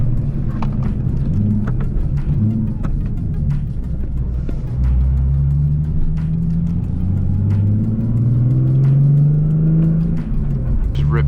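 A Nismo 370Z accelerates hard along residential streets, its engine note rising steadily and loud close up inside the car, with the drone climbing in pitch across the run.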